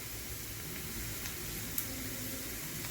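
Spices and chili sizzling with sautéed onion in a pan while making matki bhaji, a soft steady hiss with faint crackles, moderately close and without talk.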